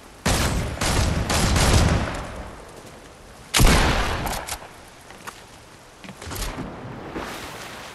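Gunfire in the Fortnite video game, a couple of dense bursts of shots with a loud blast midway and scattered fainter shots after, close and without talk.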